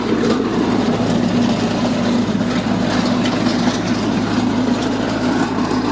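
Lovol 354E tractor engine running steadily while pulling a Wirax potato digger through a field, a continuous loud low rumble with mechanical rattle, no voices.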